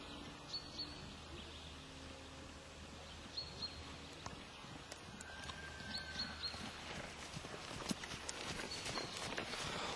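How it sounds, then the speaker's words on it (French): A horse trots through a dressage session in a riding arena, its rhythmic hoofbeats on soft footing steady and moderately distant, with faint birdsong and outdoor ambience behind. "Voilà, tu fais du trot."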